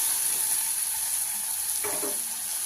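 Kulambu paste frying in a pan gives a thin, steady sizzle, with one short scrape of stirring near the end, fairly quiet and close.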